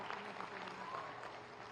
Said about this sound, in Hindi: तालियां बजे जरा।